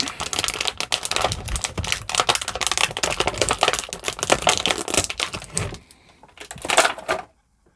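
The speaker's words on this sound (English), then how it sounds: "So let's get Mjolnir out first." A Thor Mjolnir toy hammer from a Marvel Legends 80 years figure set is pulled free of its plastic packaging, with close, continuous crinkling and rustling that pauses briefly and returns in one short burst before stopping.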